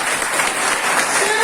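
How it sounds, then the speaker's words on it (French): Graduation-ceremony audience applauding the parents, a dense, steady wash of many hands clapping at full volume throughout, with no pauses. "Je vous demande d'applaudir nos chers parents,"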